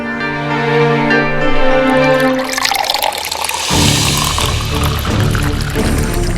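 Water is poured for a guest indoors; after a few seconds of soft tonal music, a loud, steady splashing pour begins and continues to the end.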